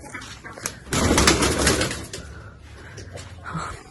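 Pigeons coo softly amid rustling and a burst of wing flutter, with low scuffling sounds close by.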